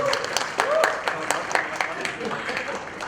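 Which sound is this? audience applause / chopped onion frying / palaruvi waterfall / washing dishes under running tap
audience applause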